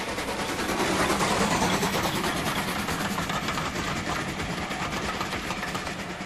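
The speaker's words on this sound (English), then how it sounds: "Snaking round the bend here is a Bridgnorth to Kidderminster train headed by LMS 2F class number 46443" LMS 2F class steam locomotive 46443, a 2-6-0 mogul, hauls a Bridgnorth to Kidderminster train round a bend, its loud, steady rapid chuffing beating over a continuous rumble of rolling stock.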